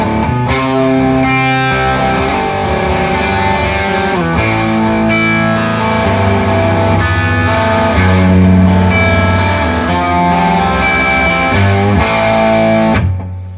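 Electric guitar played through a Seymour Duncan Palladium distortion pedal with the gain set low at 15%, giving a loud, steady run of crunchy chords and single notes that plays alone without talk.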